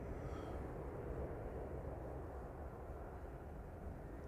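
Aircraft departing Manchester Airport for Memmingen, heard as a faint, distant, steady broadband rumble with no distinct events.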